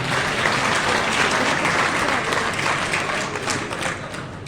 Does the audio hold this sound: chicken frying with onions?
no